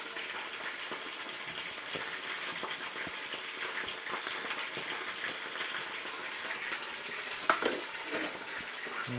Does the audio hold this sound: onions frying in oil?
yes